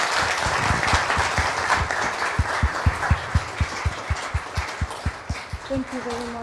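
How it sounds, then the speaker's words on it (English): An audience at a university conference on ISO quality standards applauds speaker Sally; a broad wash of clapping settles into a rhythmic, fairly loud unison beat, with a voice briefly entering near the end. "Please give an applause to Sally"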